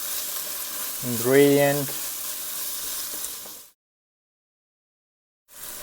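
Fish curry ingredients fry in a pan with a steady, loud sizzle that runs for about three and a half seconds, a voice speaking briefly over it, then the sound cuts to silence before returning near the end.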